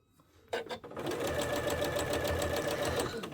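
A sewing machine runs a quarter-inch seam in a floating studio, starting after a couple of clicks and then whirring steadily with a rapid, even needle rhythm, close and continuous.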